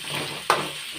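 Green chillies hit hot oil in a pan with a sudden bright sizzle burst, over a steady background fry hiss, short and close.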